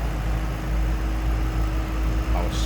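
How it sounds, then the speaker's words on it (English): A 2007 Ford Mustang Shelby GT idles in a smooth, steady low rumble, heard up close with an even tone and a faint mechanical whir on top. "how smooth that engine runs."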